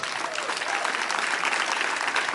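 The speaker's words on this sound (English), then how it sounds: "A round of applause for all our guests." An audience at the opening ceremony of the Zimbabwe Senior National Championships at City Pool claps for its guests, producing dense, even applause that holds steady and loud throughout.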